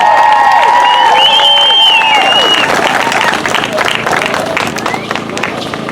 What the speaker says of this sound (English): Another big round of applause for the danzantes.